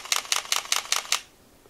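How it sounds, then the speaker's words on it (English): Sony A7 mirrorless camera shutter firing six crisp mechanical clicks in a quick even burst at close range, then quiet room tone. "Listen to that shutter."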